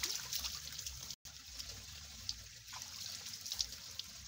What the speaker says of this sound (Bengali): আমার বন্ধুটা এখানে হাত মুখ ধুইতেছে